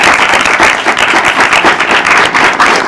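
Steady, loud applause from a group clapping for a student who earned first rank, dense and continuous throughout with no talking over it.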